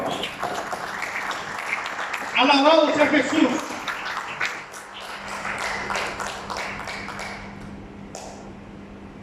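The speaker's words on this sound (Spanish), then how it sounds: "¿Cuándo le dan un fuerte aplauso al Señor?" A church congregation claps for the Lord during a sermon, a dense, steady patter of hands beneath a preacher's loud, excited voice, fading into scattered claps as he carries on.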